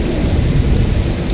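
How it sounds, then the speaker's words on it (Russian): A thunderstorm in the video game Broken Pieces rumbles loud and close, with heavy rain roaring steadily through the whole short stretch. "Устроить бурю, изменение погоды."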